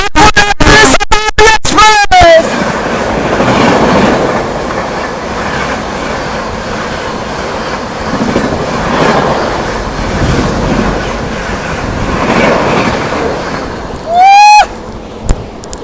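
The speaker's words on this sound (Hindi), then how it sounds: "बहुत जल्द हमें क्रॉस करने वाली है नई दिल्ली जाने वाली कानपुर शताब्दी एक्सप्रेस" The Kanpur–New Delhi Shatabdi Express passes on the loop, a loud rushing roar with rhythmic clatter of wheels close by, opening and closing with sharp horn blasts.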